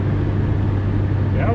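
A Chevrolet Chevette engine runs at full throttle while the car heads downhill, giving a steady, loud low drone with a constant hum throughout.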